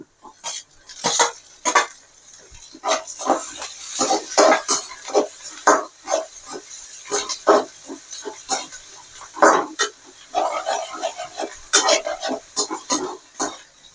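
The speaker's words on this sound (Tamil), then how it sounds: "வெங்காயம் நல்லா வதங்கிட்டு இருக்கு அடுத்தது தக்காளி" Onions and tomatoes are stirred in a pan for sambar rice, a spoon scraping and clinking against the metal in irregular close strokes with a soft sizzle underneath and no talking.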